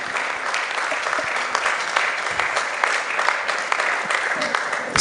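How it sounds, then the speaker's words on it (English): An audience applauds Mrs. Bolari Okunowo, managing director of Chemical and Allied Products PLC, at a management lecture, with dense, steady clapping from many hands lasting throughout and swelling slightly at the end. "give her a round of applause"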